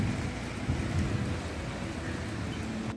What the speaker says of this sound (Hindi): देखिए बंद नहीं हुई है बारिश एक मिनट के लिए भी।